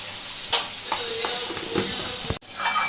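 Mutton liver sautéing with ground spices such as poppy seed and star anise in a pan, giving a steady low sizzle broken by a few sharp scraping stir strokes, close and fairly quiet.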